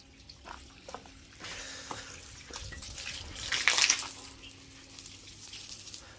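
Water gushes from a pipe driven by a motor pump onto a newly built concrete lintel at a construction site, a steady moderate splashing that swells briefly in the middle.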